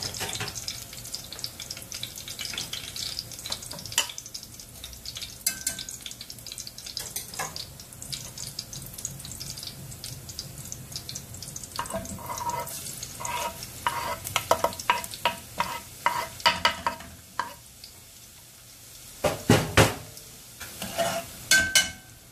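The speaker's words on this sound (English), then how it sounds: "So make sure that it is in low heat. Then just add the garlic." Garlic fries and is stirred in a pan over low heat, a steady soft sizzle with scraping spoon strokes and a few clinks, plus a brief burst of running tap water near the end; no talking.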